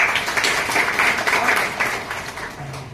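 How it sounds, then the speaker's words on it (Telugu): An audience claps at the first anniversary of the Dhaatri Mother's Milk Bank at Government General Hospital, Kakinada. The applause is a dense, steady patter from many hands that thins out toward the end. "ఒకసారి చప్పట్లు పడుతుంది"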